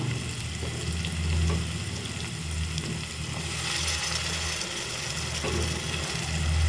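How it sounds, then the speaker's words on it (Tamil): Onions and ground tomato sauté in a pan for Chettinad egg curry, giving a steady, close, continuous sizzle with occasional soft stirring scrapes and no voices. "சேர்த்துட்டு நல்லா வதக்கிக்கோங்க"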